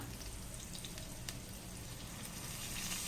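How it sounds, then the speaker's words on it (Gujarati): Stuffed eggplants fry quietly in hot oil, a faint, steady sizzle with light crackling throughout. "મસાલો ભરેલા રીંગણ તેલમાં નાખી દેવાના"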